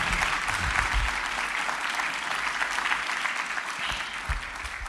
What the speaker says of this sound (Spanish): Denle ese aplauso.